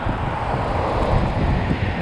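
Strong gusting wind roars steadily across the microphone of a rider on a Xiaomi Pro 2 electric scooter commuting to work, a loud broadband rush with no other sounds standing out.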